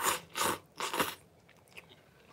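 Someone eats soft, slightly soggy udon noodles from a freeze-dried shrimp tempura udon pack: three close, wet chewing and slurping bursts in the first second and a half, then quieter faint mouth sounds, no talking.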